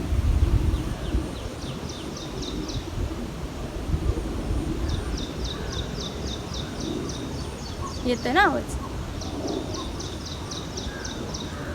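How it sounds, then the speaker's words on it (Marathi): Small birds chirp in short repeated bursts on a farm in the morning, with one louder crow-like caw partway through; a voice speaks briefly at the start over steady outdoor background noise. "सकाळी उठलो ना तर सकाळी पण म्हणजे पक्ष्यांचा चिवचिवाट असतो"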